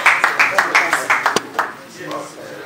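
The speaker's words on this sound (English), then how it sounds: "A round of applause, please." Scattered claps from an awards-ceremony audience at a welfare foundation event, a few distinct hand claps in uneven rhythm over about a second and a half, fading into quiet murmur.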